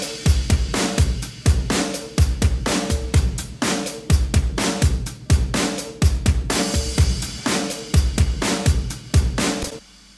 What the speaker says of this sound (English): By the time I'd finished with the drums, they ended up sounding like this.